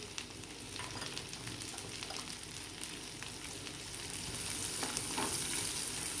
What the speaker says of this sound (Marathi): ते कट करून घेतलेला कांदा मोकळा करून घेतला तो टाकून घेणार आहोत त्याच्यामध्ये